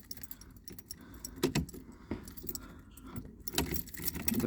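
A bunch of car keys jangles and clinks as they are pushed into the ignition of a Triumph Spitfire 1500. The bright metallic rattles come in irregular bursts, close up, with no talking.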